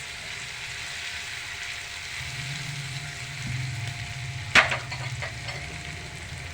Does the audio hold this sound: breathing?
no